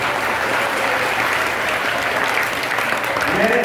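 A school audience at an inter college event claps for their principal with dense, loud, sustained applause that continues steadily throughout, with a voice emerging near the end.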